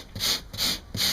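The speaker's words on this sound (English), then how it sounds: "I have to keep sanding and sanding to get those 40 grit scratches out" Hand sanding an impact repair with coarse 40 grit sandpaper on a block: three steady back-and-forth rasping strokes, close and fairly loud, with short pauses between them.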